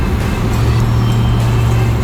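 A 1979 Ford Ranger pickup drives through a big road tunnel, its steady engine drone and road rumble filling the enclosed space continuously and close up, with no talk.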